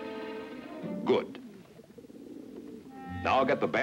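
Racing pigeon cooing, soft rounded coos near the start and a louder stretch near the end, with someone speaking over much of it.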